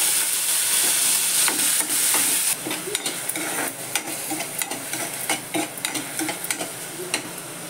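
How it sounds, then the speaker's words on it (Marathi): Soaked lentils hit hot oil with spicy green chillies in a pan, a bright hiss that drops away as stirring takes over, leaving steady scraping and clinks of a spoon over a softer sizzle, close and alone. "डाळ घालते मी आता त्यात. भिजलेली डाळ घालते."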